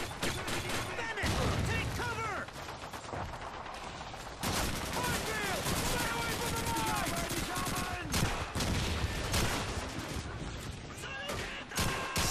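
Call of Duty 2 gameplay carries dense, continuous gunfire, with rapid machine-gun bursts and scattered rifle shots over a busy battlefield din. Someone talks over parts of it.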